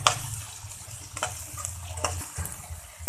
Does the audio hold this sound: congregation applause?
no